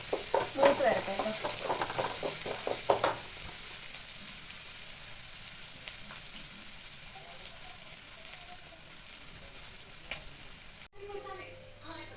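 Sesame oil frying in the same pan that earlier browned beef, with curry leaves crackling in it: a loud steady sizzle with stirring scrapes in the first few seconds, then a continuous fry that gradually settles.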